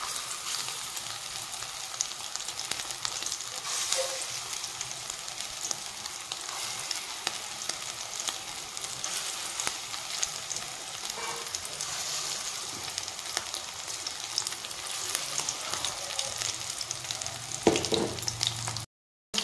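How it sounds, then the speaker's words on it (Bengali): Lentil and prawn fritters fry in hot oil with a steady, crackling sizzle that carries on evenly for about nineteen seconds before cutting off abruptly at the end. "বাকি বড়াগুলো আমি এভাবে ভেজে নেব।"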